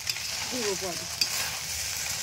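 Fried rice with fried vegetables stirred and frying in a pan in a rustic village kitchen: a steady close sizzle with brief scraping of the spoon and a short voice-like sound early on.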